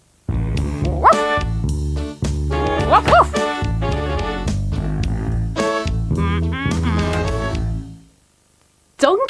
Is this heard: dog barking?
yes